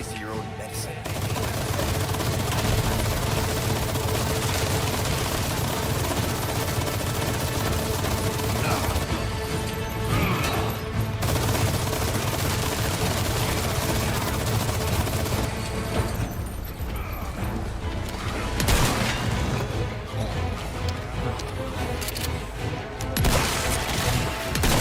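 Rifle and other gunfire in the Resident Evil 4 remake, dense bursts and bangs over a loud, continuous game soundscape with several distinct louder shots, sustained throughout.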